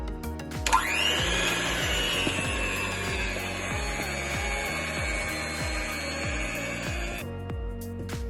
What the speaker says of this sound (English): now mix together for 4 minutes